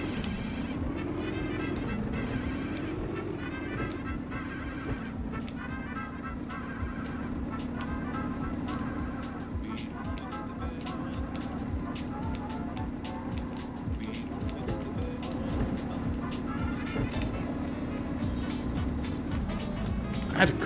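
A rock crawling vehicle's engine drones steadily in a video game, with a low sustained hum that rises slightly at the start and holds, overlaid by scattered clicks and ticks from the terrain.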